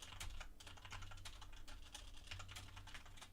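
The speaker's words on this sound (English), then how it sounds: "Sorry if my keyboard typing is annoying people." Rapid computer keyboard typing right next to the microphone during an NFL draft livestream, a dense run of quick key clicks over low background hum.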